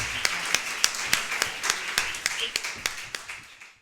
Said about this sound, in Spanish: Les damos un aplauso y comenzamos el auto de clausura.